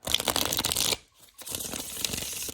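Tarot cards are shuffled by hand in two bursts of crisp, rapid riffling and slapping, close and clear, separated by a brief near-silent pause.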